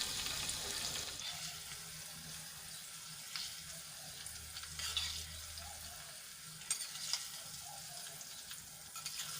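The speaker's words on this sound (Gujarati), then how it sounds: "ગરમા ગરમ વઘારને આપણે ઢોકળા ઉપર એડ કરી લઈશું" Soft crackling sizzle of hot tempering oil with sesame seeds poured over dhokla, fairly quiet, with a few brief splashes and clinks.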